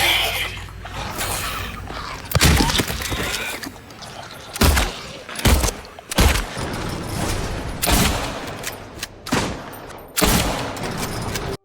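Gunfire in the Silent Hill 2 Remake video game: several sharp, loud shots spaced a second or two apart, mixed with mechanical clicks and game ambience.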